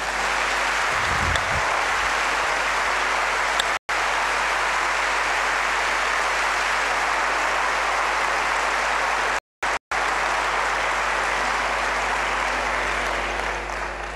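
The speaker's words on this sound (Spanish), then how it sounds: "me gustaría de todo corazón darle el más cariñoso de los aplausos a nuestro querido Enrique Ginés" Warm, sustained applause for Enrique Ginés at his 50th anniversary celebration on radio station 97.7, a dense steady crowd clapping that carries on for many seconds with only a couple of brief breaks.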